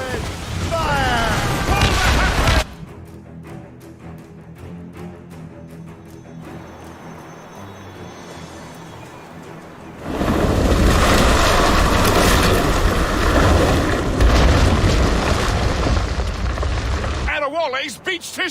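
Ship cannons boom in a naval battle in Assassin's Creed Rogue, loud volleys with crashing water and ocean noise, switching abruptly between heavy barrages and quieter rumbling stretches, with no speech.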